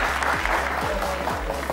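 Studio audience applause on the Afghan edition of the Family Feud game show Ro Dar Ro: steady, dense clapping fills the space, with low background music or hum underneath.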